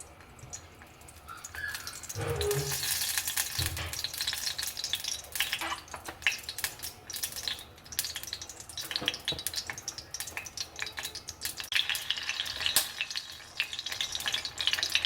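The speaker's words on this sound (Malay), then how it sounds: "Mula-mula kita panaskan minyak." Oil heats and sizzles in a pan as the cooking base for nasi kerabu gets started, a steady loud frying hiss with crackles and some clinks throughout, and no talking.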